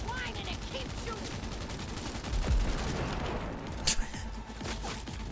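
Sustained gunfire in the video game Cyberpunk 2077, with rapid bursts and overlapping shots over a dense game soundscape, and a sharper blast near the end.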